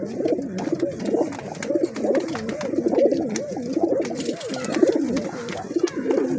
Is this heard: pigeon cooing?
yes